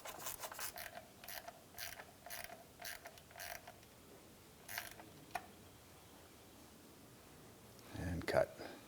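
Ratchet wrench clicking in short repeated bursts while snugging bolts on a plastic cover of a 2001-2005 Honda Civic, quiet and close, with a soft pause and a brief louder rustle near the end.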